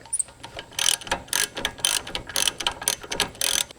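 A ratchet driving a 17mm socket tightens bolts on a Toyota Land Cruiser E70 during front brake and bearing work: about a dozen rhythmic bursts of rapid pawl clicks, close and crisp, with no talking.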